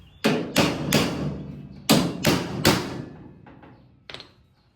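Sharp hammer taps on a car quarter panel being fitted into place, three firm strikes, a pause, three more, then a couple of fainter taps near the end, close and crisp.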